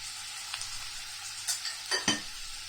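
Onions for Kerala egg roast fry in a pan with sugar and salt, giving a steady, bright sizzle with a few louder crackles and stirring clatters near the end.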